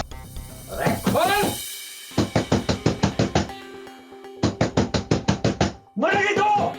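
Fist knocking rapidly on a door in two loud bursts of about eight to ten raps each, close by, with urgent shouting voices before and after the knocking.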